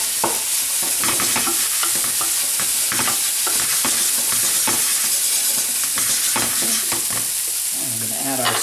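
Greens being stirred in a hot frying pan for a paleo breakfast bowl, a loud steady sizzle with repeated scraping and tossing sounds of a utensil, close up and continuous.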